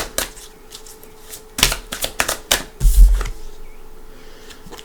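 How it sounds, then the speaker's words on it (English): Tarot cards are shuffled by hand on a table, giving a quick run of crisp riffling slaps and flutters with short gaps, close and fairly loud, no voices over them. "Let's give it a nice shuffle."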